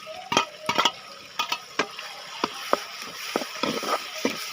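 Tomatoes and garlic sauté in a pan while making an egg curry. Scraping stirs and clinks of a spatula come in irregular bursts over a soft, steady frying sizzle, close and fairly loud.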